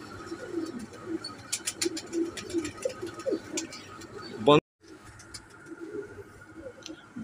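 A pigeon of the Royal Teddy breed coos softly in low, rolling phrases close by, mixed with someone talking and some background rustle, then a brief loud knock and a sudden drop in sound.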